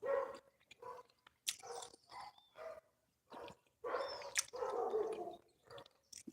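A dog barks in several loud, close bursts, with a short yip among them.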